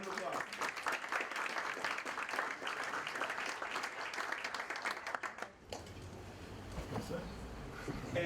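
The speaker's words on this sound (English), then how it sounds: "Round of applause" Applause from a conference audience at an impact investing event in Africa, a dense steady patter of many hands filling most of the span before thinning into quieter room noise near the end.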